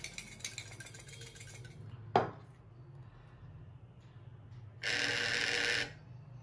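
An S68 colour analyzer device used in a rigged xóc đĩa dice-and-plate game gives a single buzzing vibration lasting about a second, preceded by a sharp click against a faint, steady background hum.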